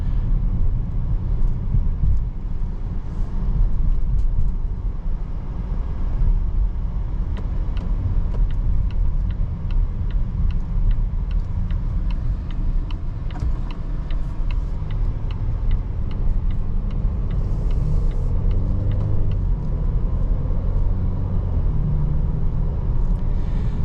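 A 2023 Volvo V90 Cross Country Ultimate drives on a road, its steady low engine and tyre rumble continuous from inside the cabin, with a faint regular ticking, like an indicator, running through much of it.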